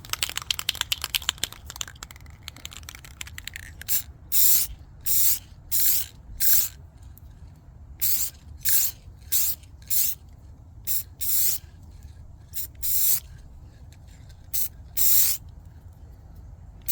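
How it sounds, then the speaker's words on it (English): Clear coat finish sprayed from an aerosol can outdoors, in a series of short hissing bursts of about a second each with brief pauses between, after some soft clicking and rattling. "We're going to go outside, we're going to spray this and finish her up."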